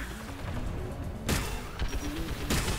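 Enemy gunfire in the Mass Effect 3 video game comes as dense, rattling volleys in a busy firefight, with a few sharper loud bursts standing out over constant background battle noise.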